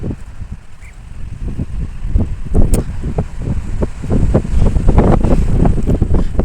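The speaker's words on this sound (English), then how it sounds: "There's so much wind out here." Strong wind buffets an outdoor microphone, gusty low roaring bursts rising and falling irregularly and growing louder toward the end, with no talking.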